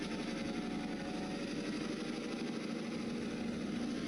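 A Kato sound box N scale locomotive engine sound with the throttle raised, a steady, continuous diesel rumble and drone holding at one level throughout, with no talking.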